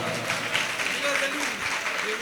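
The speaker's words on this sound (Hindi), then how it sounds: "तालियां बजाओ" Steady, dense applause from a crowd at a Jain study-camp closing ceremony, continuous and moderately loud with voices faintly underneath.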